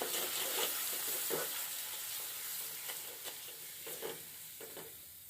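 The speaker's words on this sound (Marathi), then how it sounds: "आणि हळद आणि वाटून टाकूया. ते परतून घेऊ." Turmeric and ground masala sautéing in a pan for an egg and potato curry, a steady close sizzle broken by periodic scraping stirs, no voices.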